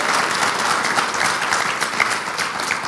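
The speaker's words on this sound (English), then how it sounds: "I really want to give a round of applause to Jamie and Bill for doing a great job today." An audience at a morning breakfast event claps together, a thick, even round of applause that stays loud and continuous from start to finish.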